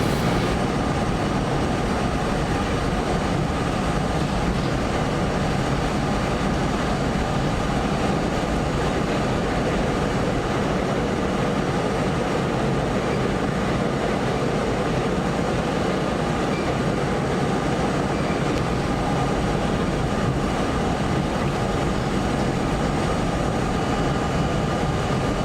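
A vintage R-32 New York City subway train rumbles along continuously at a steady, loud level, wheels clattering on the tracks with no voices heard.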